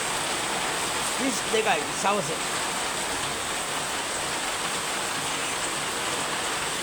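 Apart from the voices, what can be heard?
rain starting to fall in Anuradhapura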